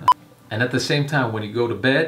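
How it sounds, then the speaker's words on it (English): A mobile phone briefly chimes with a short, clear tonal notification near the start, followed by a person speaking steadily over the rest. "That was my phone."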